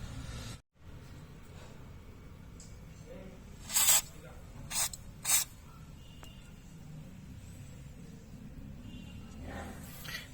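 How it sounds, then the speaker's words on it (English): WD-40 spray aimed at a dusty ABS sensor on a Skoda Rapid, three short hissing bursts close by, the first longest, against a quiet background. "So you'll have to use WD-40 spray."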